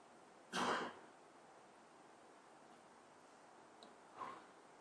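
A person coughs once sharply and close, then clears their throat more softly a few seconds later, at a quiet indoor religious gathering.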